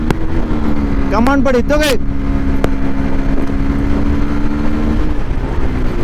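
Bajaj N125 motorcycle pulling away through its gears, a steady engine drone that rises in pitch as it revs, with someone talking excitedly over it.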